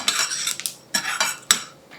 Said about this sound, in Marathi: आणि हे एकत्र आता भाजायचं